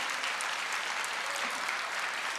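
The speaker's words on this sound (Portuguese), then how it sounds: "Vamos aplaudir ao Senhor." A church congregation at a Portuguese-language service applauds, a dense, even wash of clapping heard steadily from start to finish with nobody speaking.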